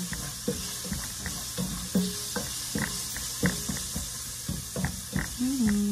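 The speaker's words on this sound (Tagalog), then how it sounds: "Tapos ilagay na natin yung ating ginger. Gisahin lang natin ito." Ginger sautés in olive oil with garlic in a home pan, a steady bright sizzle hissing underneath while a spatula scrapes and taps in an irregular stirring rhythm, close and moderately quiet.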